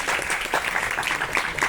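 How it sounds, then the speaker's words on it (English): A debate audience applauds a university student debater, a loud, close, steady burst of many hands clapping with no pauses across the short stretch. "so please give her a round of applause"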